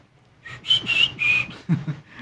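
A high whistle closes a song performed live at Asia Song Festival 2022 in Korea, three sustained bright notes followed by a short low voiced sound, fairly close and clear.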